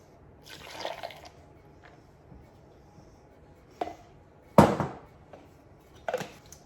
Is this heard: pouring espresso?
yes